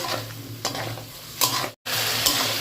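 Spices with a pinch of salt and a little water are stir-fried for a bottle gourd and prawn curry, a close, loud sizzle broken by repeated scraping strokes of a spatula and one brief dropout.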